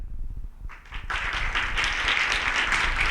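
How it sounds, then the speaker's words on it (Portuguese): Applause breaks out at a Saturday morning church retreat, starting sparse and swelling into a steady crowd of clapping that carries on to the end, after a brief moment of voices. "Uma salva de palmas para a Dona Maria."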